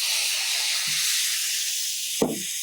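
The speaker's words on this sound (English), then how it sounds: "deglaze this with a little bit of white wine" A chicken pan deglazed with white wine gives off a continuous soft hiss of sizzling, ending with a short burst of splash and crackle as liquid meets the hot surface.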